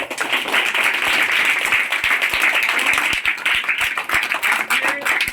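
Audience applause at a talk, loud and continuous clapping from a crowd of many hands, steady and close for the whole few seconds.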